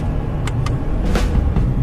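A 2015 Subaru WRX with a CVT-style transmission drops a gear, its engine giving a steady low rumble with a brief rise in revs, heard from inside the cabin and continuous for about two seconds.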